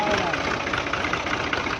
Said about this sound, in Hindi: जैसे कि मैं पहली बार ये ट्रैक्टर चलाने लगा है